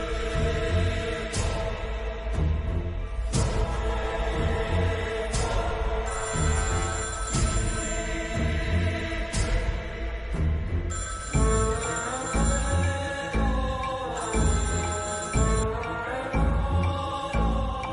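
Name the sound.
telephone ringing tone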